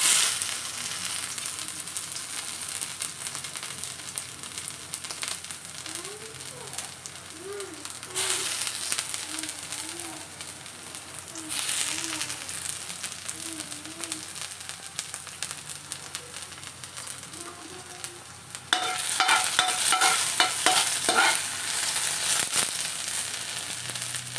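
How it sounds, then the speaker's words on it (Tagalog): Ginger sautés in hot oil in a wok, giving a continuous crackling sizzle. Faint tonal sounds hum along in the background, and the frying grows louder and busier toward the end. "magigisa muna tayo ng ginger. Yan, at mainit na rin yung oil"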